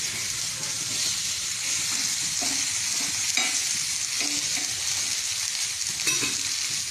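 Poddale (snake gourd) cutlets fry in oil in a pan, a steady close sizzle with a few soft scrapes of turning, continuous and fairly loud, no voices.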